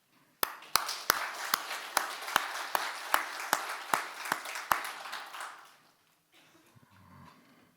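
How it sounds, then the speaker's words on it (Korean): A congregation at a Sunday church service claps in a steady rhythmic beat, a dozen or so regular sharp claps over broader applause that fades out, followed by faint room noise. "다시 한번 박수합시다."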